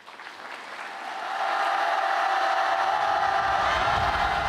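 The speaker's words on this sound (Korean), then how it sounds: "박수로 시청하겠습니다." A congregation at a church gathering in Gwangju claps before a screening, applause building over the first second and a half, then holding as a broad steady roar.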